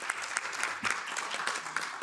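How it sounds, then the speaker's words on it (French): Audience at a conference on the right to food applauding a speaker, a fairly quiet but steady patter of many hands clapping, close and even across the whole stretch. "Oui, on peut l'applaudir."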